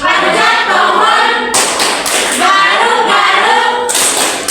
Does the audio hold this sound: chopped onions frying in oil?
no